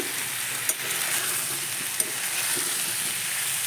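Frying potato and pointed gourd curry keeps up a constant bright sizzle as chopped tomato is stirred in, with two sharp spoon clinks against the pan.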